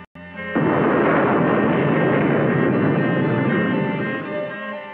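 A tanker explosion effect for a Coast Guard safety film about the Chevron Hawaii fire in Houston, Texas: a sharp crack, then a loud, sustained roaring rumble of blast and flames lasting several seconds before slowly easing.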